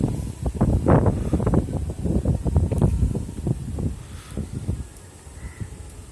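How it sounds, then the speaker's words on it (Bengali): Strong outdoor wind before rain, heard as heavy, gusty low rumbles buffeting the microphone in uneven bursts that ease off toward the end. "প্রচুর বাতাস করতেছে"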